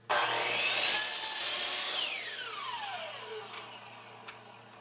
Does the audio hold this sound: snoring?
no